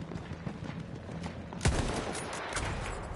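A single sharp rifle crack, likely an enemy sniper's Martini-Henry shot in Battlefield 1, cuts through quiet background game ambience partway in.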